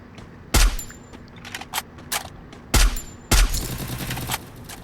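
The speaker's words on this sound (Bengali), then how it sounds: "আমি এখান থেকে ফায়ার দিয়ে কাভার দিচ্ছি" Gunfire from the Free Fire video game, with several loud, close bursts of shots at irregular intervals and quieter single reports between them.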